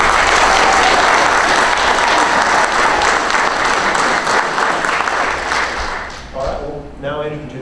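An audience at a county sheriff's debate claps loudly and densely for several seconds before the applause thins and fades, and a voice begins speaking near the end.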